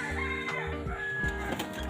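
Roosters and chickens crow and cluck nearby amid a busy farmyard din, with layered bird calls overlapping throughout.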